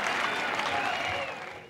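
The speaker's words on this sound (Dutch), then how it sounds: "En het applaus dat u hoort is voor Charles Urbanus." A baseball crowd in an old broadcast recording applauds a player, a brief muffled wash of clapping with a faint tone running through it.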